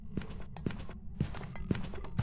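Heavy, evenly spaced footsteps in the game Phasmophobia, five or so thudding steps about half a second apart, close and distinct over a faint low background hum.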